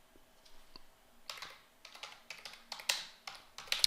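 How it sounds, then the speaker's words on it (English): A postcode typed on a computer keyboard in an office, giving a quick, uneven run of close key clicks that grows busier and louder toward the end, with no talking. "typing in the postcode"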